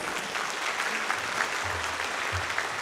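An audience at a luncheon event breaks into sustained applause for a state representative, a full, even spread of many hands clapping throughout, with faint low murmurs beneath it.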